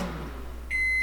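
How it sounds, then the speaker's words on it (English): A microwave oven cooking sticky rice gives a single high electronic beep near the end of a low, steady hum. "I will put it back in the microwave another 5 more minutes."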